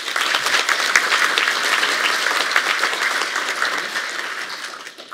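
A hall full of people at a university's academic-year opening ceremony applauds warmly, a thick, steady wave of clapping that tapers off slightly at the end.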